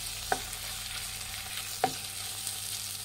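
A spatula stirs a garlic rice mixture in a hot pan, the low sizzle of frying steady throughout, with two sharp scraping clinks of utensil against pan.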